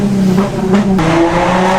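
Modified Audi A5 engine tuned to sound like a Nissan GTR, roaring loudly and continuously up close with a gritty, revving exhaust tone and no talking.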